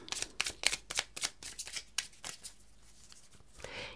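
Cards are riffled and shuffled in a quick series of crisp flutters, fairly faint and close, tapering off toward the end.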